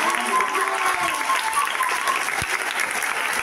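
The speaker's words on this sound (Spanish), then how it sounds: "així que un aplaudiment ben fort" A school theatre audience of children and families applauds loudly at a school in Barcelona, a dense sustained burst of clapping with some whistles or cheers on top.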